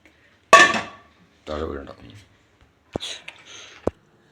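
A metal lid is set down on a cooking pot of curry, giving a short clatter and a final clink, heard close after brief speech and a little kitchen handling.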